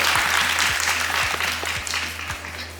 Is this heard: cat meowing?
no